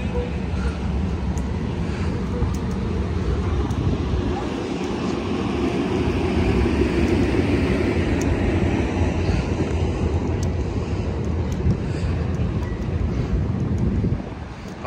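A Union Pacific freight train passes through Emeryville station on the Capital Corridor line, a loud, steady, broad rumble and roar lasting about fourteen seconds before easing off at the end.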